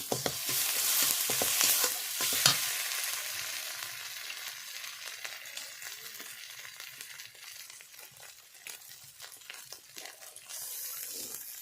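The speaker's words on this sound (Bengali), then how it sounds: "জিরে বাটা এবং আদা বাটা দিয়ে দিচ্ছি" Cumin paste and ginger paste sizzle and fry in a pan with turmeric paste, a loud spattering hiss that settles into steady crackling while a utensil stirs and scrapes now and then, with no voices.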